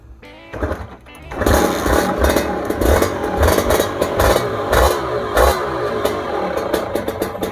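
Kawasaki KR150 two-stroke motorcycle revving close by, a quiet start giving way to repeated sharp throttle blips and crackling, rattly engine bursts for most of the clip.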